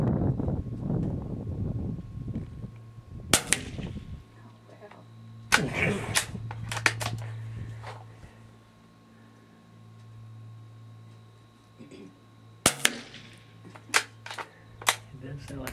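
.22 Super Colibri rifle rounds fired at a 50 yard range, a few quiet sharp cracks spaced seconds apart, with someone talking at the start and light handling noise between shots.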